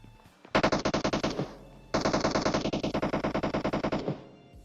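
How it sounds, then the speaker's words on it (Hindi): Two long bursts of rapid automatic gunfire in PUBG Mobile, loud and close, with a short pause between them. "अब गोलियां चल रही है दबा के"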